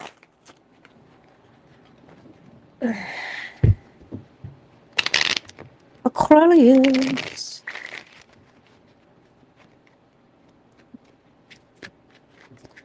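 Reading cards are shuffled in several short, crisp riffling bursts with quiet gaps between them, close to the microphone. A voice briefly speaks at the start.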